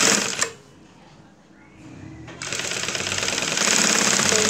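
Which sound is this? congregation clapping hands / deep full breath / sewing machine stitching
sewing machine stitching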